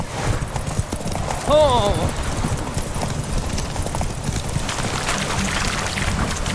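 Horse galloping in The Witcher video game, steady hoofbeats running throughout under game music and sounds, with a short neigh and a character's exclamation near the start.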